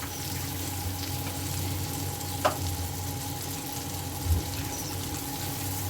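Chili powder frying in a curry pan with a gentle, steady sizzle and hiss, plus a couple of brief clinks as it is stirred; no talking.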